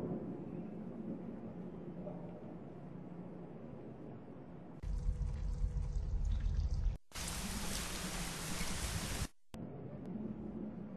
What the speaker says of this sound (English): I'll pour lamp oil into the groove that goes once around the sarcophagus.